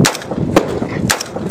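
Gunfire in a historical battle scene set around Yogyakarta, Indonesia, with sharp cracking shots in a few separate bursts over a noisy background, near and fairly loud.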